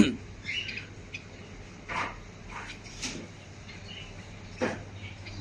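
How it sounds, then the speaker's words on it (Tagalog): Pigeons and other birds in a pet shop, with a few scattered squawks and chirps plus light cage rattles against a steady low hum of the shop. "Tapos dito mga kalapate."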